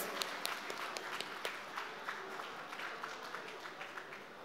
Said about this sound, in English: A huge round of applause for them, please.